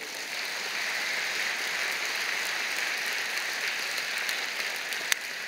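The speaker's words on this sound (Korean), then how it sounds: "여러분 큰 박수로 환영하시지요" A church congregation applauds to welcome newcomers at a Sunday service, a steady, dense wash of many hands clapping that holds evenly throughout, with no talk over it.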